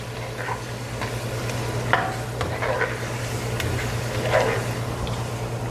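Green chillies and a few curry leaves sizzle in a pan over a medium-low flame while a spatula stirs them in several soft scraping strokes. A low steady hum runs underneath and no one talks.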